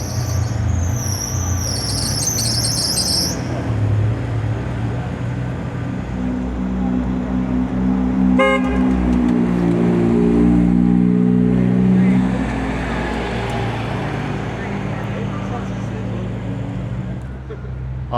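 A loud Ferrari engine rumbles and revs, then the car pulls away with a rising roar, the sound staying close and strong throughout with some squealing at the start.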